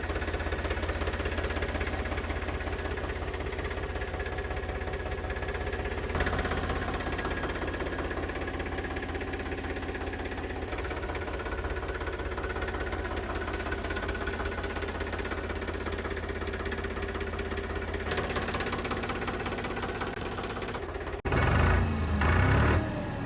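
A 2023 Sonalika RX 47 tractor engine idles steadily nearby with a low rhythmic chugging that continues unchanged, then briefly roughens and knocks louder near the end.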